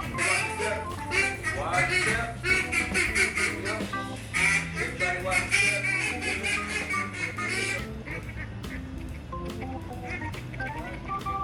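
Several ducks quack loudly and repeatedly in overlapping bursts, close by, tapering to scattered quieter calls toward the end.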